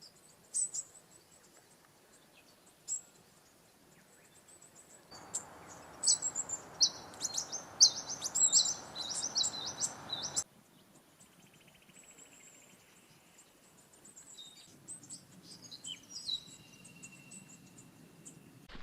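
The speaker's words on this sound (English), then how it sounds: "There's lots of bird song, particularly the fairy wrens." Fairy wrens and other birds sing in bushland by a river at a campground, high twittering trills scattered through the clip over a steady insect and water hiss, with no talking.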